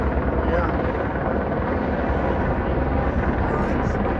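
A helicopter carrying a heavy slung load over the Grand Canyon drones steadily and fairly loud throughout, a continuous low chopping roar of rotor and engine with no breaks.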